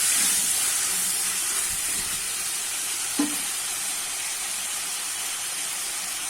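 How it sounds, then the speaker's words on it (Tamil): Tomatoes sautéing in a pan for a village-style brinjal kadayal, a steady soft hiss and sizzle with one brief clatter partway through. "இப்போ தக்காளி நல்லா வதங்கட்டும்."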